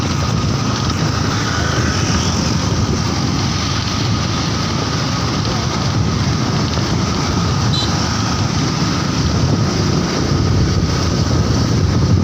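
Strong wind buffeting a microphone while riding a motorcycle across the Suramadu bridge, a constant loud roar of rushing air with low engine rumble beneath, no clear speech.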